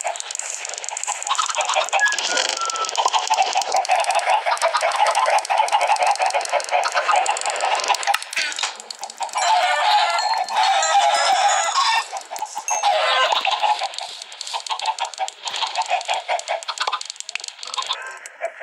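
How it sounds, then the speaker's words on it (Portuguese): Two productive backyard hens and their chicks cluck and cheep continuously at close range, a busy, overlapping chatter of low clucks and thin high peeps lasting nearly twenty seconds. "Duas galinhas e os filhotes."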